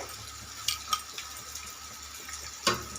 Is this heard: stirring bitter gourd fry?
yes